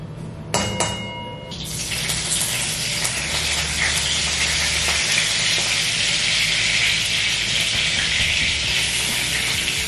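Ghee sizzles in a frying pan, starting with a few clinks and then breaking into a loud, steady crackling hiss that continues close up with no talking.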